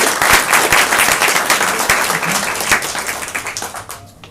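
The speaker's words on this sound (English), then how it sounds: "So one last round of applause for our panelists." A conference audience applauds panelists: dense, sustained clapping from a crowd, loud at first and gradually thinning and fading toward the end.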